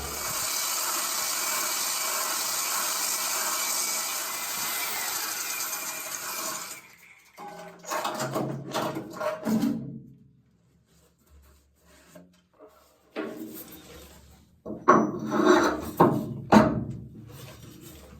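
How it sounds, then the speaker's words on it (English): A cylinder hone runs through a boat's stern tube, first as a steady abrasive whirring rasp for several seconds, then as intermittent scraping and rubbing bursts separated by pauses. "I'm just going to run the cylinder hone through the stern tube, see if we can clean that up"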